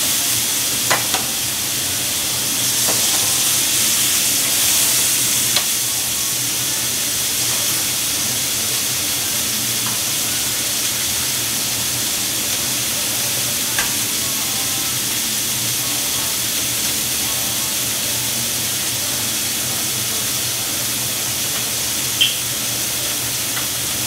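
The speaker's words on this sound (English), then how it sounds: "2 to 3 minutes per side, y'all. Get a nice sear on it." Meat searing in a hot pan, a steady broad sizzle lasting throughout with a few faint clicks and clatters.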